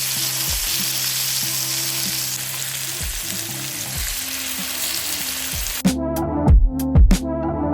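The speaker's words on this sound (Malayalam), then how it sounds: "നമ്മുടെ ഫ്രൈ ഒരു വശം വെന്തു, ഞാൻ മറുവശം തിരിച്ചിട്ട്" Snakehead fish frying in oil makes a loud, constant sizzle, then bursts into heavier spattering and clatter as the pieces are turned, heard close with no talking.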